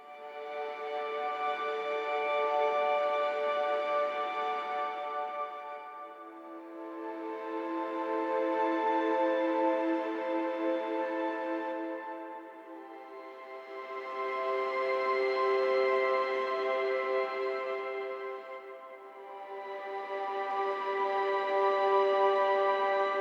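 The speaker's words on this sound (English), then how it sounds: "I started my track with a soft strings harmonics that fades in and fades out in dynamics." Soft, sustained string harmonics swell up and fade away in slow repeating waves, about four gentle surges with no other sounds.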